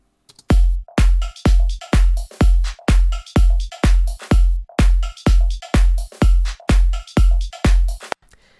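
A hollow, woody percussive knock repeats in a steady even rhythm, about fifteen dry hits with no other sound.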